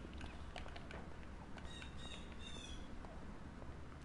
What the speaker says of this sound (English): Oh, you guys actually hear the birds outside my window